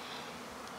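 Honeybees buzz around a topbar hive during orientation flights in early spring, a soft continuous drone from many insects at moderate distance, faint and unbroken.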